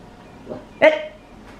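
A single dog bark rings out sharply, preceded by a softer whine or yip, with quiet room tone around it.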